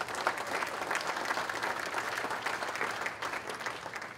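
A luncheon audience applauds steadily and evenly for the whole span, a thick wash of many hands clapping, heard somewhat distant and fairly quiet.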